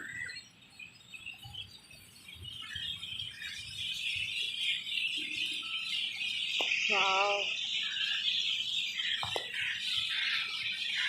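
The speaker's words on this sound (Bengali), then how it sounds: "পাখির আওয়াজগুলো শোনো এখানে" Faint, scattered bird chirps and a short squawk rise over a hissy outdoor background in Mysore Udyan garden, Kolkata, with a few soft distant sounds between them.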